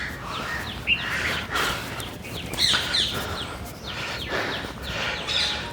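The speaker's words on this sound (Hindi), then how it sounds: "जैसे कि आप कोयल की आवाज़, कबूतर की आवाज़, चिड़ियों की आवाज़ चह चह सुनाई दे रही है" Koels, pigeons and sparrows on the Narmada riverbank chirp in scattered, fairly faint outdoor calls over a constant hiss of ambient noise, with a few sharper high chirps standing out.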